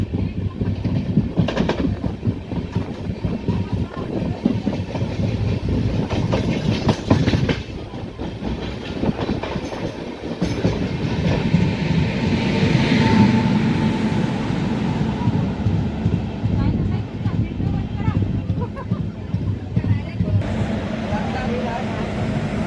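The Dikshabhoomi Express rolls through a winding ghat section near Ghatnandur, a loud continuous rumble of wheels and carriages with rhythmic clatter from the rails, steady throughout and heard from on board.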